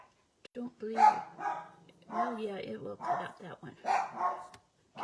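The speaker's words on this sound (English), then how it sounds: "Pardon the dogs. They're out there barking their heads off." Dogs bark outside, distant and intermittent, in short yaps beneath someone talking close by.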